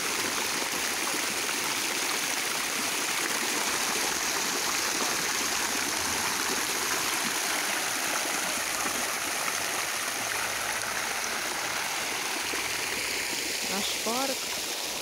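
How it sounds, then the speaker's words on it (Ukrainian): Small park fountain splashing steadily at night, a continuous broadband wash of falling water running the whole time without a break. "Як завжди, наш фонтанчик."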